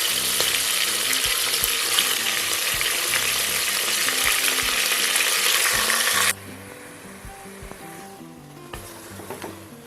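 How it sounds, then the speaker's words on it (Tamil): Lamb head meat fries in oil in a village-style pan, a loud broad sizzle with the scrape and clatter of stirring, then the sizzle cuts off abruptly partway through, leaving quieter clinks and handling sounds. "கறி சேர்த்து நல்லா மிக்ஸ் பண்ணி விட்டு ஒரு 10 நிமிஷம் எண்ணெயில் நல்லா வதக்க விட்டுடலாம்."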